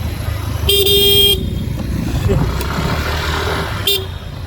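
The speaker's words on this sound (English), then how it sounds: "don't honk at me." Two car horn honks, a long blast followed by a short toot, sound close by over road traffic and engine noise on a countryside road in Bohol, Philippines, heard from a scooter, with people talking nearby.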